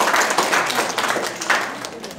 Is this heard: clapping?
yes